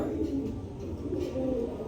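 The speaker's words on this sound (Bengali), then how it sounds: "দুই পিস বাচ্চা কবুতর দিলাম দেখেন" Young pigeons coo softly and continuously nearby, a low murmuring bird sound with no talk over it.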